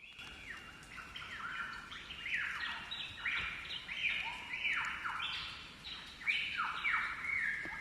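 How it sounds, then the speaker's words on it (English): Several birds chirp and whistle in quick, overlapping phrases, bright and fairly close, forming a steady lively chorus with no talking. "But just listen to these birds."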